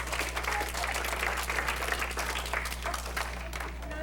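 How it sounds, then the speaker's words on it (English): A crowd at a 95th birthday celebration applauds steadily for several seconds, dense clapping filling the room over a low constant hum. "round of applause"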